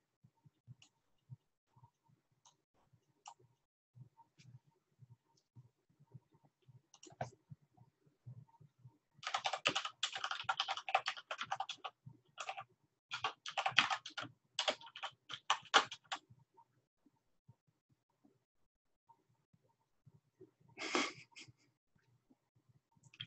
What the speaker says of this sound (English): my typing is coming through loud and clear